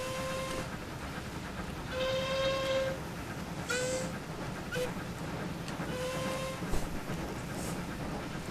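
A steam locomotive in Train Simulator 2020 on the Great North of Scotland route sounds its whistle in several separate tonal blasts, some short and some held, over the continuous rumble and clatter of the moving train.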